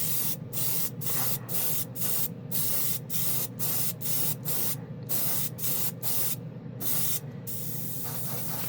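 An airbrush sprays gold acrylic paint in a series of short, regular hissing bursts separated by brief pauses, close and fairly loud over a low background hum.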